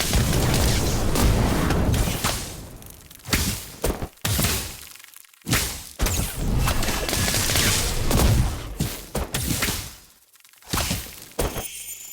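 Fiery spell effects from the Harry Potter Magic Awakened mobile game, heard as repeated loud whooshing bursts and booming impacts with brief gaps between them.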